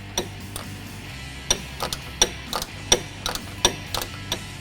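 Socket ratchet tightening a bolt on an oil catch can bracket of a 2011-2014 Ford F-150 3.5L EcoBoost, sharp close clicks coming in an uneven rhythm of single and paired strokes, with no speech.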